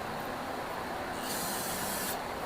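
A steady aerosol spray hisses into the holed air breather of a 1996 Bombardier Sea-Doo SPX 717 engine, a close continuous stream that briefly grows brighter in the middle.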